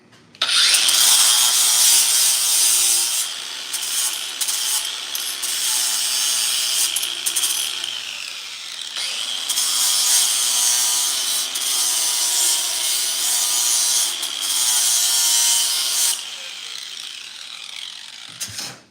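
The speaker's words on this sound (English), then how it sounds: "let me sand this down a little bit" A block of wood is sanded by hand in long, steady abrasive strokes, loud and close, with a short pause around the middle before the rasping resumes.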